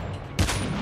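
A single sudden burst of gunfire in the Call of Duty Mobile video game, loud and close, cutting in abruptly after a quiet moment and trailing into a sustained rattle.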